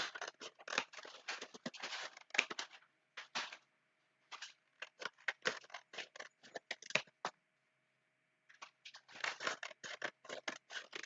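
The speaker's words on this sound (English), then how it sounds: "while it's still folded in half, hamburger style, I'm just going to cut strips." Scissors snip through folded craft paper, cutting it into strips in quick bursts of crisp cuts, with short pauses between runs of snipping.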